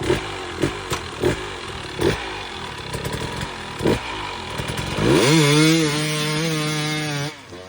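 A hard enduro dirt bike launching to get unstuck, first a run of rough knocking bursts as it rolls, then the engine revs up hard and holds a loud, rising drone in second gear, close by, with no talking.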